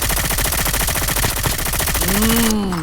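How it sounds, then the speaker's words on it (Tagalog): Rapid automatic gunfire in a shooter video game rattles loudly and continuously, a dense stream of close shots, followed near the end by a rising whining tone as the firing continues. "may bumabaril."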